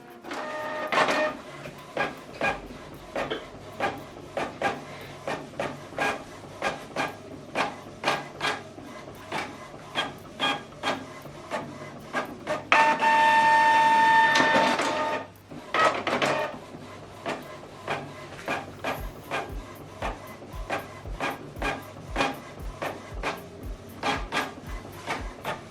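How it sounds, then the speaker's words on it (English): Canon or HP printer printing a document on both sides, with a steady train of short mechanical clicks and paper-feed pulses, a louder sustained whirring stretch midway as the sheet is flipped, then the clicking rhythm resumes, close by. "So this document now we're going to print it on both sides."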